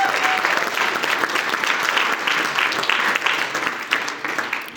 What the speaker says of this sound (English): Let's have an all-round applause for them as well.